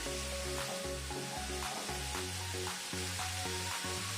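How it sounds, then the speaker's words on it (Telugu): Onions fry lightly in a pan with a soft, steady sizzle, faint and continuous under background music with a stepping bass line, and no talking. "ఆనియన్ వేసాం కదండి, లైట్గా ఫ్రై అవ్వాలండి. ఎక్కువ ఫ్రై అవ్వకూడదు, లైట్గా అవ్వాలి."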